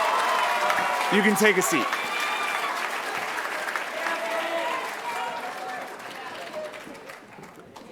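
An audience at a middle school awards night gives a sustained round of clapping that fills the hall, while a presenter's voice speaks briefly over the applause as it fades.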